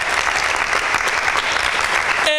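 Loud, dense applause from an audience at a Bible quiz, sustained and even from start to finish before cutting off abruptly.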